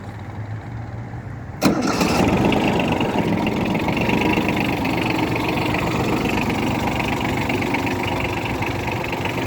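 After a brief starter crank, a Yanmar F155 diesel tractor with 953 engine hours fires up quickly and settles into a steady, loud, clattering idle that runs unchanged to the end, with no talking.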